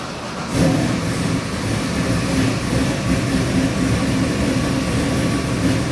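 A Chevy LS 441 cubic-inch crate engine, built for a 1968 Camaro, runs on a dyno: it starts abruptly, then holds a loud, steady, dense roar with rumbling low-end pulses throughout.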